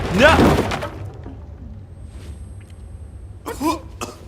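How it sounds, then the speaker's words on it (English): A man coughs in a short harsh burst at the start, close and loud, followed by quieter breathy sounds and a second brief cough-like burst near the end. "I'm coughing."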